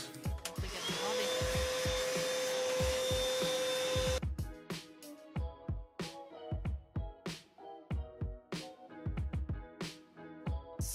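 A vacuum cleaner runs with a steady whining drone for a few seconds, then cuts off, followed by a series of knocks and clatters from handling things.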